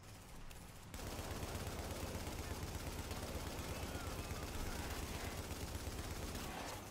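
Sustained automatic gunfire from The Division video game starts suddenly after a quiet second and rattles on continuously as a dense, steady barrage, loud and harsh throughout.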